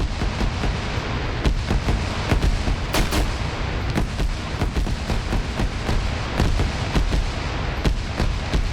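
Sustained suppressive gunfire in a multiplayer PvP shooter match, with dense bursts of rifle and machine-gun shots in steady rapid rhythm that keep going without a pause and hold the same loud level throughout.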